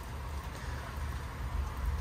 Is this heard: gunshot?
no